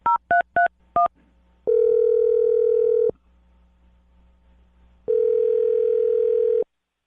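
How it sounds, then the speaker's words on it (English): A telephone call is placed: four short touch-tone dialing beeps open, followed by two long steady ringback tones separated by a quiet gap, clear and alone with no talking. "I'm dialing her phone number."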